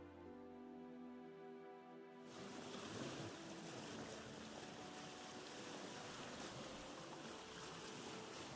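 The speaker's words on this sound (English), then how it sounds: "Can you sail any faster, bud?" A boat sails across open water in Vintage Story, with steady wash of waves and wind rushing loudly after a quiet, tonal opening of a couple of seconds.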